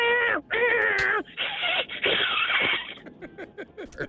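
A man on a radio call-in show imitates a cat fight with his voice, producing loud, drawn-out yowls and screeches that break into rapid, choppy squalls and hisses over about four seconds.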